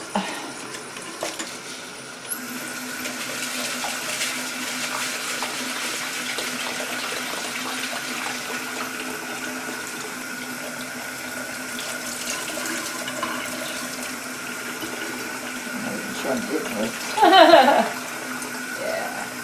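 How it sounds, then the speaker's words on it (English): Rice being rinsed under a running kitchen tap, a steady close gush of water into the sink that swells briefly near the end as the grains are stirred. "Now I'm going to wash this. Yep, wash it over there in the sink."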